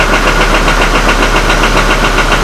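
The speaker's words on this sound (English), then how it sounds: "You hear that start? Really rough start." Hummer H3 engine running steadily just after a rough start, loud and close, with a continuous rumbling drone and slight rhythmic pulsing, no talk.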